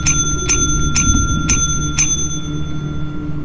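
Bell in the video game Lethal Company rung five times in an even, steady rhythm about half a second apart, each strike bright and ringing clearly over a low background hum.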